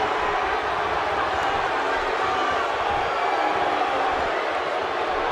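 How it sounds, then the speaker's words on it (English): Arena crowd noise in a WWE wrestling video game: a dense, steady roar of cheering spectators runs unbroken and loud from start to finish. "the crowd is loving Sasha's act."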